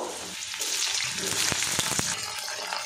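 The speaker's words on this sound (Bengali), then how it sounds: "এবার এই তেলের মধ্যে আমি কুঁদরিগুলো দিয়ে দেব।" Ivy gourd (kundri) pieces hitting hot oil in a pan, a loud steady sizzle and crackle with a few sharp pops and a brief stirring scrape, close up and with no voices.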